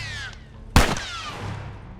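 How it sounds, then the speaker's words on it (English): A single loud, booming gunshot from the video game The Last of Us rings out sharply in the middle, with a fading echo and faint background hum. "You can feel the boom from the gunshots in your chest."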